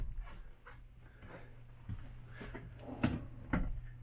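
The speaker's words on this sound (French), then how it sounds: "Ici, on a également des tiroirs d'intégrer au bout des banquettes." Drawers built into the bench ends of a 2021 Thor Motor Coach Gemini 23TW motorhome slide and knock shut, giving a few soft clunks in a quiet interior with no talk.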